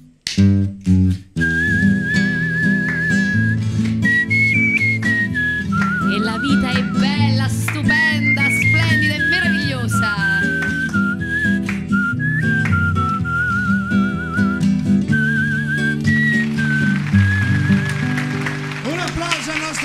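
A man whistles a tune as a guest on an Italian radio show in Rome: a clear, sustained melodic whistle with bends and trills over soft musical accompaniment, loud and close throughout.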